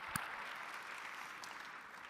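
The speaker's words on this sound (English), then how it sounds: "you can clap for that" Audience clapping at a leadership summit, a brief dense patter of many hands heard at a moderate distance, steady across the short span with no talk over it.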